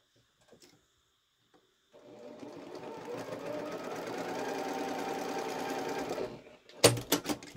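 A sewing machine stitches down the end of a quilted fabric triangle pouch, running at a steady whirring pace for several seconds after light handling noises, then stopping with a few clunks.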